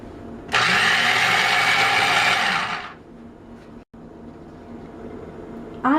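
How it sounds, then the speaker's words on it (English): An electric blender chops onion and potato for ground turkey patties, giving a loud, steady whirring grind for about two and a half seconds before cutting off into quiet room noise. "Now we chop in blender onion and potato."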